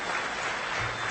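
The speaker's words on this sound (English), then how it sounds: "so let's give them a round of applause." Steady applause from an awards-show audience at the 2013 Golden Goggles, a dense unbroken crowd clapping throughout.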